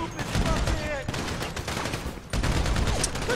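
A rapid, sustained barrage of automatic gunfire in GTA 5 rattles along with a brief dip midway before resuming loudly, shouting voices mixed in beneath the shots.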